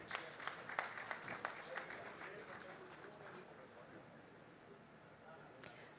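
Audience applause fills a hall at a formal ceremony honouring a panelist. The clapping is dense and lively at first, then thins and fades toward a quieter finish.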